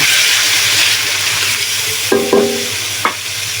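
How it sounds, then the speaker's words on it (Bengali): Whole garam masala spices, cloves and peppercorns frying in a pan give a steady, close sizzle and hiss with a few clinks of stirring near the end. "গরম মশলা ডাল ফল লবঙ্গ এবং গোলমরিচ দিয়েছি চারটা করে এটা আমি ভালো করে কষিয়ে নেব"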